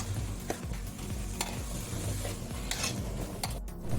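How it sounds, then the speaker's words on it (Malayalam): Fish biryani masala stirred in a pot with a spoon, giving repeated scraping strokes and soft clinks over a steady background sizzle, close and fairly loud throughout. "നല്ലോണം ഇളക്കിയിട്ട് കുറച്ച് നേരം മൂടി വെക്കാം."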